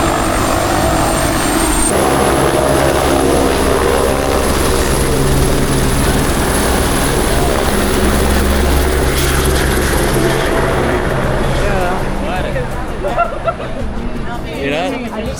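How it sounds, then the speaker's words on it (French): Loud, steady engine roar and whine of a helicopter powering up at the Rio de Janeiro Carnival, with murmured voices underneath throughout. "Je crois qu'il y a un hélicoptère qui va démarrer."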